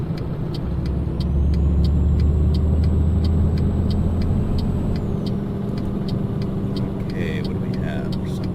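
A Scania truck driving in Euro Truck Simulator, its engine a loud, steady low drone with a brief swell in power, while someone talks over it.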